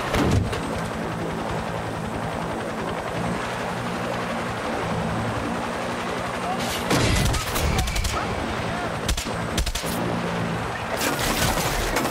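Video game combat with gunfire and grenade blasts: a continuous rumbling din, then bursts of sharp, loud shots and explosions in the later half, with a helicopter in play.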